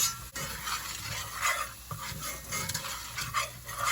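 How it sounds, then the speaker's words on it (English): A whisk stirs flour into very hot oil to start a roux for crawfish étouffée, making close, rhythmic swishing and scraping strokes in irregular bursts throughout. "You want to come in and give it a whisk."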